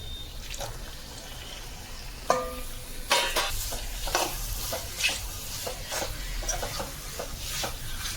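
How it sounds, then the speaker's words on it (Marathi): Squid is tipped into a hot pan and fried for a home seafood recipe: a sudden clatter and splash, then a steady soft sizzle with scattered scrapes and clicks of stirring, close and moderately quiet. "माखली घालून घेऊया."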